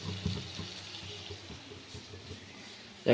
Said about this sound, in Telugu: ఇప్పుడైతే దీంట్లో మనం చికెన్ ఉడికేకి తగినన్ని నీళ్ళు అయితే వేసుకుందాము.